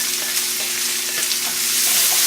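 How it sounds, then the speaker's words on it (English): Chopped onions and garlic sautéing in a pan for chicken afritada, a loud, dense, steady sizzle heard up close with faint stirring, no voices. "We'll saute those until they're starting to turn translucent"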